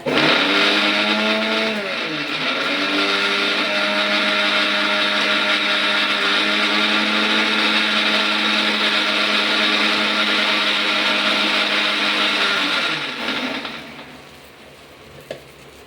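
A kitchen mixer grinder grinds mint chutney made with mint, coriander and ginger, a loud steady whine running continuously for about thirteen seconds, then winding down and stopping, with no voices.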